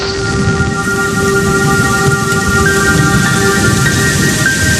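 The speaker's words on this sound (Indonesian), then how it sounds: "di luar hujan turun sangat deras." A steady, dense roar of heavy rain pours continuously, loud and close, with faint sustained tones running beneath it.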